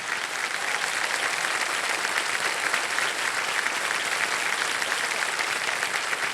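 Studio audience applause welcoming a returning contestant on a quiz show set, a dense, steady wash of many hands clapping that holds evenly throughout at moderate, distant-sounding volume.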